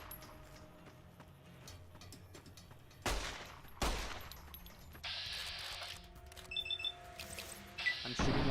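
Gunfire in Fallout New Vegas: sharp broadband shots burst out around the midpoint, followed by a sustained stretch of loud, dense firing with ringing, metallic game effects over a low background hum.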